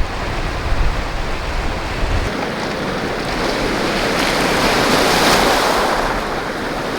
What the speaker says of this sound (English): taking some footage of the waves as they come in